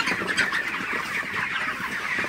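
Broiler chickens, around a month old, cluck and chatter steadily in a poultry shed at night, a dense continuous flock murmur close by with no voices.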